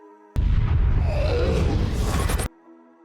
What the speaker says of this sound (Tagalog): Ang helicopter ay sumubok na lumipad pero naabutan pa rin ito ng pagsabog.